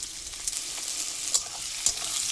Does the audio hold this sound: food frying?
yes